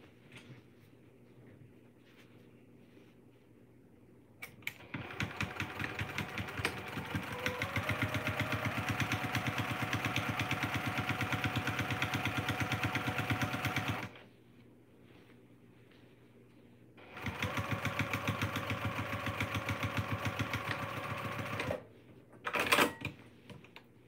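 A sewing machine stitches a fabric basket seam in two steady, rapid runs, the first about nine seconds long and the second about five, separated by a quiet pause.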